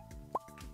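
Plants are watered in the farming video game Stardew Valley, giving soft liquid plops and drip sounds, two brief splashes over less than a second.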